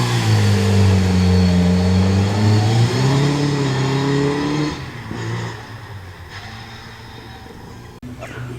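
A Ford Escort historic rally car on a skid pan works its engine hard, revving loudly and sweeping in pitch, then fades as it moves away, leaving quieter background sound.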